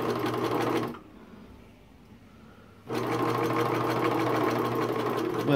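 A sewing machine stitching a homemade heating pad, running with a steady close whir, stopping for about two seconds, then starting again and running on steadily.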